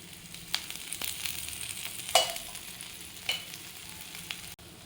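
A wheat veg sandwich roll fries in oil in a pan with a soft, steady sizzle, broken by a few sharp crackles and the scrape of turning it.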